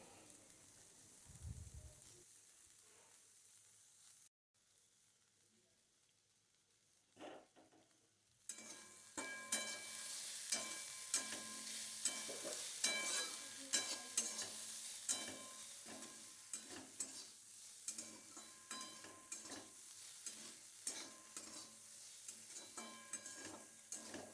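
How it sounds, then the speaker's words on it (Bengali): Stirring potato and flowers frying in a pan: after a quiet start, a loud crackling sizzle with repeated scraping strokes of a spatula fills the remainder, close and without speech. "বেশ ভালো করে আমি নাড়াচাড়া করে নিচ্ছি"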